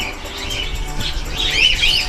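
Parakeets chirp in a small outdoor aviary, bright twittering calls rising in a busy, moderately loud flutter with a few wing flaps, louder toward the end.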